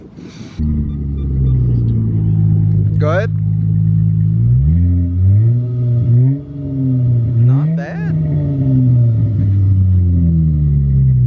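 A V6 engine with a Magnaflow exhaust idles with a deep, throaty exhaust rumble, then revs up and settles back twice, with brief talk nearby.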